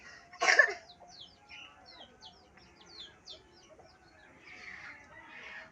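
Chickens in a Bangladeshi village give soft, intermittent clucks and short chirpy calls against quiet rural surroundings, with one louder rough burst near the start.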